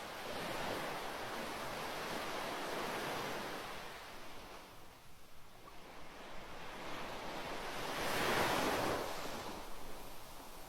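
Sea waves wash onto a beach in Tomarang in a soft, continuous rush, swelling and receding with one fuller surge near the end, faint and heard at a distance.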